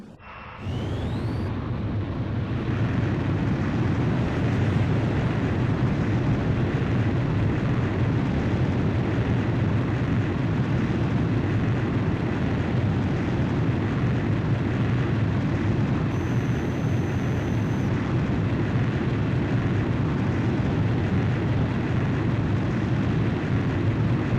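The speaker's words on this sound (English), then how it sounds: "Blaze, you are cleared for takeoff." A fighter jet launching off an aircraft carrier catapult in Ace Combat 5, a sudden loud roar of engine thrust that holds as a steady, powerful rushing blast, with a brief radio tone partway through.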